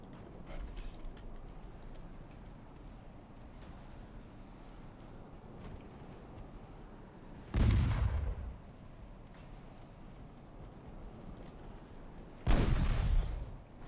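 Naval gunfire from 4.5-inch warship guns in the game Ultimate Admiral Dreadnoughts: two heavy, booming reports several seconds apart, each with a rumbling tail, over a steady wind-like sea ambience.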